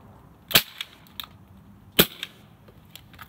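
Two sharp, loud Umarex XCP pistol shots crack about a second and a half apart at an outdoor range, each followed by faint clicks and small impacts.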